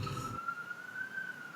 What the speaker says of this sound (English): I hear sirens in the back?